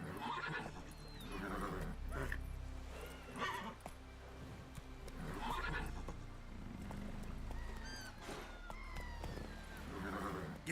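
Horse Roach galloping with steady clip-clop hoofbeats and repeated whinnies in The Witcher game, loud and continuous, with faint voices and ambient game sounds underneath.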